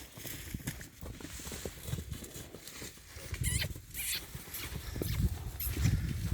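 Horses move about nearby with irregular hoof clops and shuffling, mixed with a few faint squeaky sounds and background rustle.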